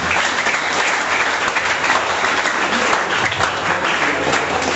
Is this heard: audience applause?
yes